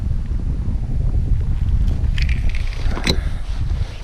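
Steady low rumble of wind buffeting the microphone out on open water during a kayak fishing outing, loud and continuous, with faint brief splashes or creaks around the middle and no talking.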